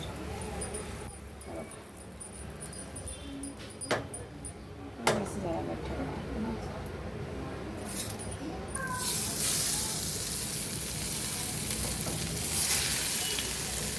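Spinach vadi shallow-fry in oil with asafoetida: sporadic clinks and light sizzling give way to a loud, steady hiss of frying partway through, with a voice briefly present.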